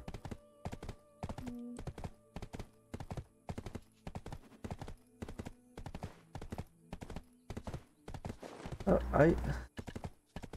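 Horse hooves clip-clop in a steady, even rhythm during horse training in the Black Desert video game, with a short whinny near the end and someone talking briefly.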